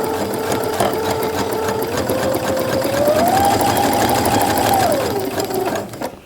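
A sewing machine stitches a row of shirring with elastic thread, a steady close rapid whirring hum that rises in pitch midway as it speeds up, then slows and stops.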